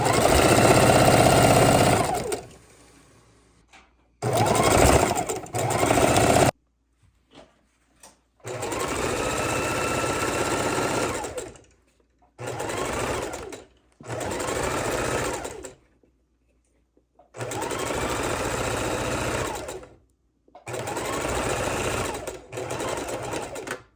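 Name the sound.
sewing machine chain stitching fabric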